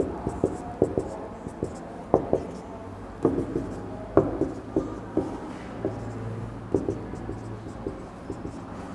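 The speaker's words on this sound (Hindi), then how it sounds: "अब देखो लिख देता हूँ" Pen writing on paper while a graph and values are jotted down, giving a steady run of close, crisp scratchy strokes and taps, moderately loud, with light background murmur.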